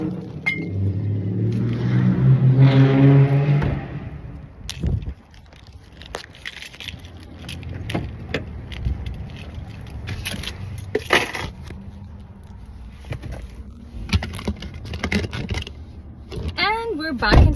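Inside a car, a running engine hums low and steady while people talk, with rustling and clinking of bottles being handled nearby.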